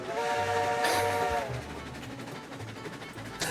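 Steam train in the Railroads Online game, with a strong whistle blast at the start, then low rumbling and chuffing, a short hiss burst near the end.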